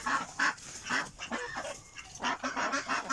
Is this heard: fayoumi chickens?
yes